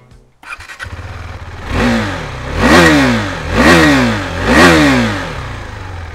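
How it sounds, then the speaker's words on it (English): KTM RC 390 sport bike exhaust revved up hard three times in a row, each rising snarl dropping back between blips, close and loud after a brief idle. "All right, let's do a quick exhaust check."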